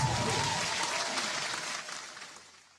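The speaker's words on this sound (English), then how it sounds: "Round of applause for that." Short burst of audience applause at a live show, moderately faint clapping that fades steadily over a few seconds.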